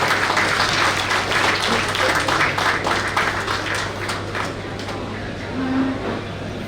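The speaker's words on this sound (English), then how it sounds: "Just want to be round of applause for this sir." Applause from an audience at a bar association farewell for a high court judge, steady moderate clapping filling the hall with a constant low hum underneath, easing slightly toward the end.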